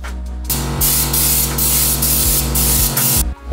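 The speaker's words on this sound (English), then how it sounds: "attach it to my gun and spray" A spray gun applies Upol Raptor coating to a van outdoors, a loud, close, steady hiss that starts abruptly, runs for about three seconds with slight pulses in intensity, then cuts off.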